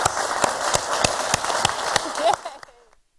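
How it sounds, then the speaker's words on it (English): Conference audience applauding a panel of mayors at a city event, steady clapping with a few sharp hand claps standing out, which tapers off and stops after about two and a half seconds. "Let's give our mayors and Susan one more round of applause"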